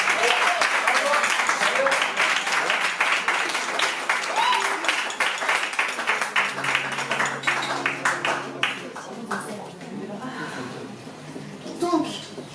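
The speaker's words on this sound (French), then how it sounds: "je vous demande, s'il vous plaît, d'applaudir Christophe et Cyril" Concert audience applauding two performers, Christophe and Cyril, at a Djoliba show in Nice: dense, loud clapping fills the first half, thinning to scattered claps with murmuring voices and a brief low tone near the end.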